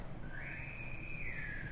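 A single long whistle rises, holds steady and then slides slightly down, faint against a quiet background hum recorded indoors at night.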